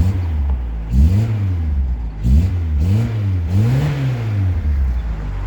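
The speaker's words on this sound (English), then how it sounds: "But I'll give it a little rev." A VW Golf Mk2 engine revs close by, rising sharply then falling back in three or four distinct blips, with a steady idle rumble between them and no talk.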